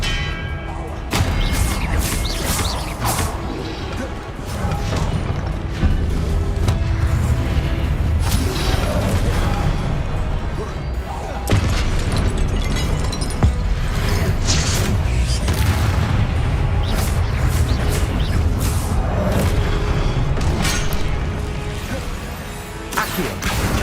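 Spell casting effects in the video game Hogwarts Legacy, a dense run of booming blasts and crashing impacts layered over game music, with a voice calling out over the action.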